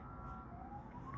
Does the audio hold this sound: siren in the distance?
yes